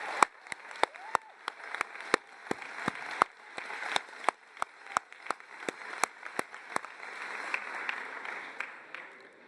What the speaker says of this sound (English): Let's give these super parent graduates a big round of applause